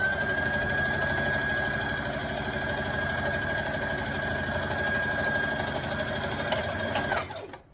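A sewing machine stitching a dress seam, a continuous fast mechanical whirr with a steady rhythmic clatter running close and loud, then stopping abruptly at the end.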